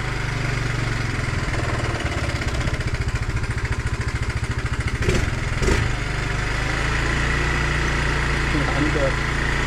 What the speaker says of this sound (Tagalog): Okay na ang motor, under na ulit.